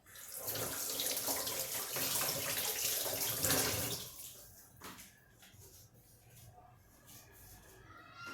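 Hands washed in water in a home kitchen while making chivali bhaji vada: loud, steady running and splashing for about four seconds, then quieter drips and light handling noises.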